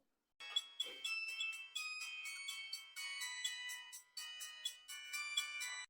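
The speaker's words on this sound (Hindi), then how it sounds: "सब जनी तनी हमार फोन बाजत बा, उठाई ले" A mobile phone ringtone plays a bright, repeating electronic melody in regular bursts with short gaps between them, clear and fairly close, with no talking.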